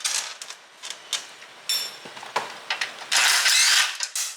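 A hand ratchet works 8mm bolts loose from the blower housing of a 98cc motor, giving close, irregular clicking bursts and metallic rattles with a few brief pauses.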